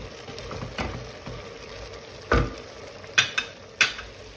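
Six chopped green peppers sauté in a pan with browning meat for hünkar beğendi, giving a soft steady sizzle broken by a few sharp scrapes and clinks of stirring.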